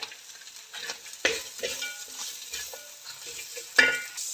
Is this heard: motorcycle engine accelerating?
no